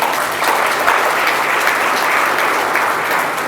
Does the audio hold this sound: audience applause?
yes